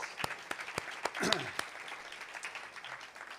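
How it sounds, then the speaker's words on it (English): A small audience at a faculty poetry reading claps in scattered, sparse applause that lingers briefly, with a faint murmur of voices in the background. "Another round of applause."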